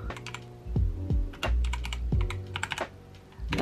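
Rapid typing on a computer keyboard, a fun little replacement for a USB board, clacks close and clear in quick irregular bursts of keystrokes with a few brief pauses.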